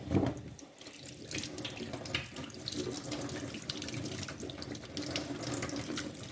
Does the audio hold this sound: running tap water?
yes